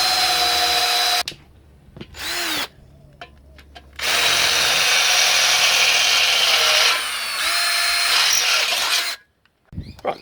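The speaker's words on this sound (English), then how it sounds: "always drill a pilot hole" Whining power drill drilling a pilot hole in car metal, running in several bursts, high and steady while drilling, stopping and restarting, close up with no talking.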